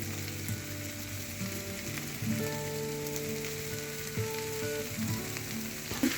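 Capsicum frying in a pan gives a steady, close sizzle while a utensil stirs it, with occasional scraping and clinking over the continuous hiss; no voices.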